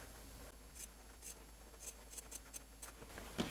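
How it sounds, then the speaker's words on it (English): Scissors snip through quilt fabric along a seam line, a run of faint, quiet, crisp cuts spaced irregularly against a soft background, no voices. "And we're just cutting right on that line."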